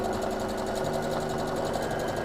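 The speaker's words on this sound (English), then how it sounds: "So I'm going to sew along here." A sewing machine stitches a fabric seam on a half-circle skirt, its needle running in a steady rapid whir with a fast even clatter, close and continuous throughout.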